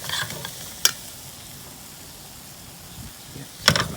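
Leftover rice stir-frying in an ordinary pan rather than a wok, a soft steady sizzle with a few sharp scrapes of a utensil against the pan, one early and one near the end.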